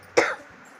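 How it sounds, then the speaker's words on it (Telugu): A person gives a single short, sharp cough close up, which fades quickly into quiet. "కొంచెం అడ్డ వరిగితే దగ్గు వస్తుంది"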